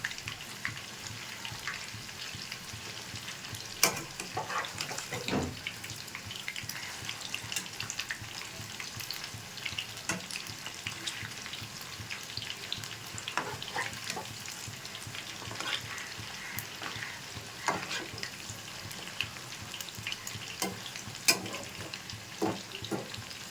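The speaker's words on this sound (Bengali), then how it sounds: "পকোড়াগুলো ভাজা হয়ে গেছে, তুলে নিচ্ছি" Chicken pakoras frying in hot oil, a steady dense sizzle and crackle that holds evenly throughout, with occasional sharper pops and a few scraping stirs, and no talking.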